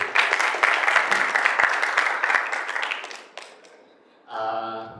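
Audience clapping after a film screening at a talk show event, a steady burst of applause that fades out over about four seconds, followed by a brief tonal sound at the end.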